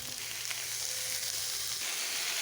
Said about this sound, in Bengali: তেল দিয়ে দেবো। এই চপ বানাতে মশলা করতে খুব অল্প তেলই লাগে। পেঁয়াজ কুচি দিয়ে দিলাম,